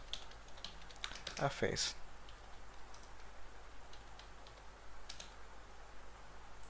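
Computer keyboard keys tapped while filling in a German national visa application form, a short burst of light clicks under a soft steady hum, with someone speaking over it.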